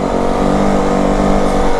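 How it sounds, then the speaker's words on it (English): A 2025 Yamaha WR450F dirt bike, fully corked up with a tiny pea-shooter exhaust insert, drones at a steady engine note close by, loud and continuous without speech. "The freaking exhaust, dude. I can hear it."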